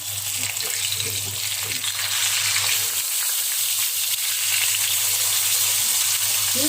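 Fish sizzling in hot oil in a pan, a steady hissing fry with a constant low hum beneath, fairly close, with a voice speaking briefly over it.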